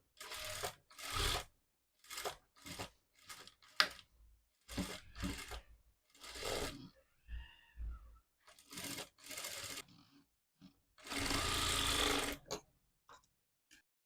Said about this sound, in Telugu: ఓపెన్ అవ్వకుండా ముందుగానే ఒక స్టిచ్ అనేది వేసుకోండి